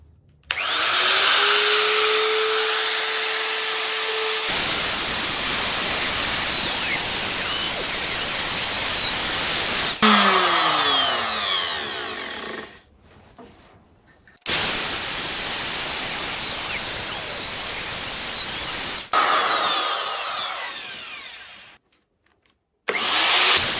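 A wood router with a longer bit screams through a guitar body while cutting pickup holes, in several loud sustained passes broken by short pauses and spin-downs.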